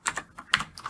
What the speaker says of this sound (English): So now I'm going to hit enter on my keyboard twice